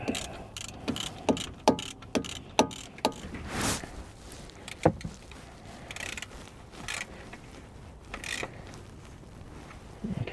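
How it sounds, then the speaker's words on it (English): Socket wrench ratcheting in short bursts to tighten the oil filter housing bolts on a Hyundai Palisade, quick clicking runs close by with brief pauses and a few clanks. "So we'll go ahead and tighten them down with a socket wrench"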